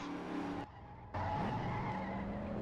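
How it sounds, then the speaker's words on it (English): Skidding tires during a car wreck in a racing video game, a loud engine drone suddenly cut off, then a rising tire screech and renewed engine noise from several cars. "we've got a wreck happening here on lap 5"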